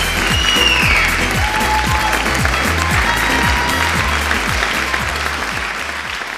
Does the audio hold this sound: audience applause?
yes